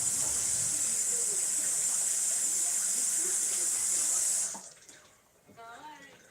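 Tap water runs steadily and loudly as hands are rinsed in a kitchen sink, a continuous hissing flow that stops abruptly partway through, leaving quiet room tone with a few faint clinks.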